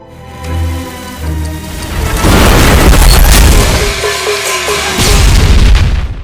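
A building explodes in a gangster action film: loud, heavy booms roll into a sustained roaring blast with rumbling debris that swells twice and fills the scene after a brief musical lead-in.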